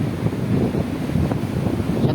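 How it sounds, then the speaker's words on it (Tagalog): Strong ocean waves surge and crash at Sapsapan Beach in Kasiguran, Aurora: a continuous, loud roar of surf mixed with gusting wind buffeting the microphone, with no clear breaks between swells. "Napakalakas ng alon."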